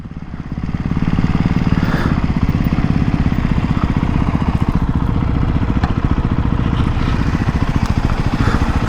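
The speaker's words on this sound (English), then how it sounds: "I can't believe this is a single cylinder sounding like that." A 2024 Ducati Hypermotard 698 Mono single-cylinder motorcycle engine runs steadily close by, a loud, continuous pulsing thrum that holds for the whole stretch with slight revving swells.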